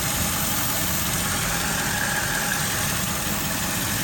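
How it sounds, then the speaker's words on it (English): A loud, steady broadband hiss from a large vacuum leak at the rear of a Mercedes ML500 W163 engine, heard up close over the idling motor with no break for the full four seconds. "It's a really, really big leak."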